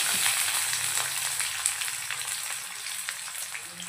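Onion and bay leaf frying in hot oil with spices for a Maharashtrian chicken yellow curry, a steady close sizzle with light stirring scrapes, no talk.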